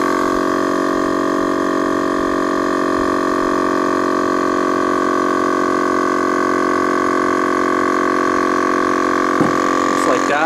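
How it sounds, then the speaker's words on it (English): A portable tire air pump runs steadily and loudly for the whole stretch, a constant motorized hum with strong tonal whine, inflating a bike tire beside an RV, with a brief change near the end. "Say I want to pump up my bike tire or something."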